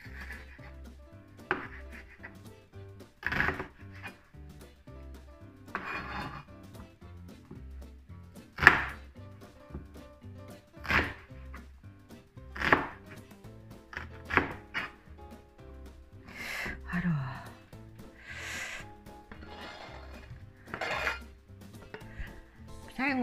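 Knife chopping onions on a board in a home kitchen, with intermittent sharp cuts and taps at an uneven pace, moderately close, under a steady low hum and occasional talk.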